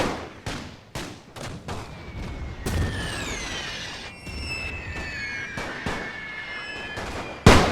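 Artillery guns fire in the World War I video game The Great War 6.0, with a rapid series of loud booms followed by whistling shells and scattered blasts, ending in one sharp close report.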